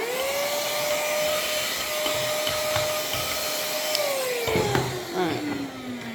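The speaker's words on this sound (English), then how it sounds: "Quick hoover." A hoover vacuums up aluminium filings after hand-filing metal edges, a steady loud whine that holds pitch for several seconds, then drops lower with clattering bits rattling up the nozzle near the end.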